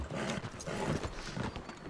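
An Arabian horse gallops in Red Dead Redemption 2, giving a faint, steady run of hoof beats that continues throughout, with no talking.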